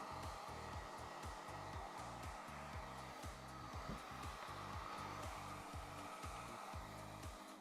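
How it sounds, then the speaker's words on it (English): A hair dryer blows steadily and loudly on a Golden Retriever's coat the whole time, a constant rushing whir with a faint rhythmic pulsing underneath. "I'm always pointing the dryer in the direction that I want the coat to go"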